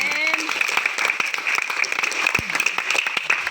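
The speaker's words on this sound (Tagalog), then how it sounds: "Mas malakas na palakpak sa Panginoon." A church congregation at an anniversary service applauds loudly and continuously, with a sustained tone and a few voices mixed into the clapping.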